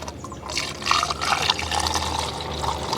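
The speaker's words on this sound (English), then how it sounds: "I'm gonna go ahead and top off this overflow as well." Coolant is poured into the overflow reservoir of a 2006 Acura MDX, a continuous close splashing fill with a gurgling, sloshing texture and no voices.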